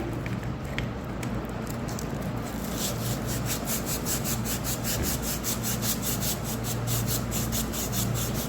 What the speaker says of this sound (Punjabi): ਇਹ ਲੈਣਾ ਫੋਇਲ ਪੇਪਰ ਕੋਈ ਵੀ ਪੁਰਾਣਾ ਫੋਇਲ ਪੇਪਰ ਵੀ ਲੈ ਸਕਦੇ ਆ ਇਸ ਦੇ ਨਾਲ ਆਪਾਂ ਇਸ ਨੂੰ ਚੰਗੀ ਤਰ੍ਹਾਂ ਇਸ ਤਰ੍ਹਾਂ ਰਗੜ ਕੇ ਸਾਫ਼ ਕਰਨਾ ਹੈ